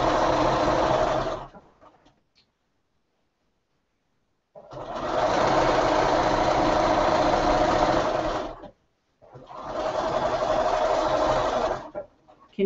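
A sewing machine stitches over a quilt hem in three loud, close bursts of steady motor whirring, separated by short pauses of silence.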